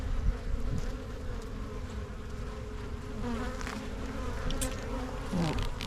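Honeybees swarm around an opened hive during requeening, a dense continuous buzzing drone filling the space close by, steady and loud with shifting pitch as bees fly past.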